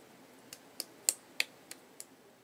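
Six light, sharp claps come one after another at a slightly uneven pace, small and soft like tiny hands, against a quiet background.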